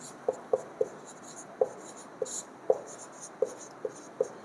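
Pen or pencil writing by hand while working out almanac calculations: a steady series of about ten short, crisp scratching strokes, close and quiet, with no talking.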